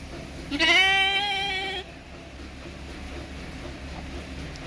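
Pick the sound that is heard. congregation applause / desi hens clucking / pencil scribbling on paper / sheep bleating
sheep bleating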